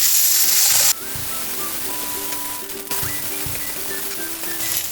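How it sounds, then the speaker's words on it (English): Green beans fry in a wok over high heat with a loud, dense, continuous sizzle, broken by a couple of sudden shifts as the beans are tossed, and no one speaking over it. "Now put in the green beans we have prepared. Fry that for 30 seconds on the high heat."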